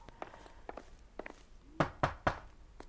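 Knocks on a door in a detective video game set among LAPD neighborhood inquiries: a few faint taps, then three louder, close, evenly spaced knocks, with no talk.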